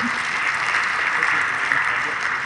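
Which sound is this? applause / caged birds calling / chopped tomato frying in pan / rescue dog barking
applause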